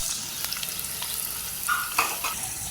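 Chopped onions, mustard seeds and green chillies fry in hot oil in a pan, giving a steady close sizzle with brief stirring scrapes and no talking.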